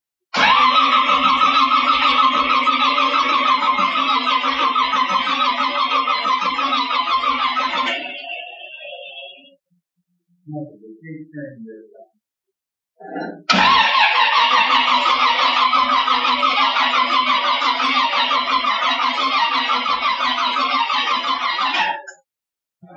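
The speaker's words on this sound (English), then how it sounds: "We're going to crank her for a few seconds and then give her some power and see what happens." The engine of a 1957 delivery truck cranks over in two long, loud, close bursts of rhythmic starter churning, separated by a short pause with brief mechanical sounds, and it does not catch.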